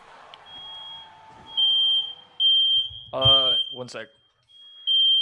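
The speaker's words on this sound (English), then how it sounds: "sounds like there's a smoke alarm popping off" A home smoke alarm chirps in a shrill, high electronic beep, sounding intermittently as a steady tone through a live esports broadcast of a Clash Royale League match, with a commentator talking over it.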